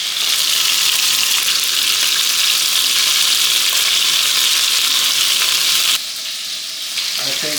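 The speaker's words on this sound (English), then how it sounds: "I think now the meat has been fried." Beef for Hungarian goulash fries in very hot tallow, giving a loud, steady, dense sizzle that holds constant before dropping slightly in intensity near the end, with no talking.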